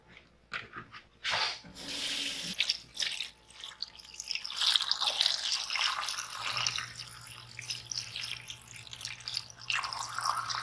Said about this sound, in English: Now we fill it up with water.